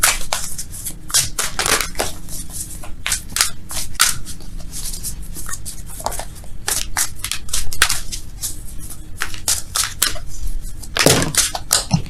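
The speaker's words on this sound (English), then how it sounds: "Let's shuffle for real, though." Tarot cards being shuffled by hand in a steady run of quick, crisp riffling and slapping bursts, close and fairly loud, with no talking over it.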